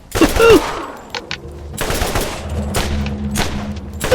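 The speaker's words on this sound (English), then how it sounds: "I like that it's an automatic rather than a burst assault rifle." Automatic assault rifle firing in the Borderlands video game, in sustained rapid bursts of loud, close gunfire with brief pauses between volleys.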